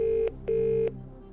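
Telephone dialing tones from the Who Wants to Be a Millionaire video game on PS1: two steady electronic tones separated by a short gap, clean and close, with no voices.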